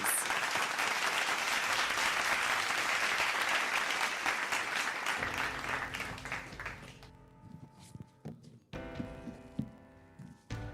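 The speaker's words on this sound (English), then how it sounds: "Let's give him a big round of applause" A press-launch audience for the Tour of Luzon 2026 cycling event applauds the chief organizer, steady loud clapping for about six seconds that then thins into scattered claps and fades.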